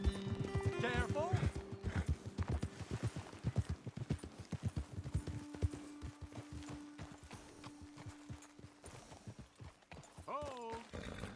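Rapid hoofbeats clatter over a steady rhythmic patter in the video game Red Dead Redemption, with horses whinnying at the start and again near the end, and a person speaking briefly.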